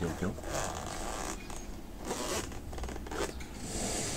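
The zipper on a soft plastic case holding a GoPro HERO 11 is pulled in a few short, rasping strokes, quiet and close, with a voice talking now and then.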